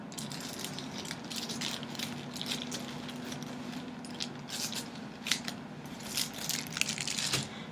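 Scissors snipping along the bottom of a plastic bag, a quiet run of crisp irregular cuts and rustles that grow busier toward the end, close up with no talking.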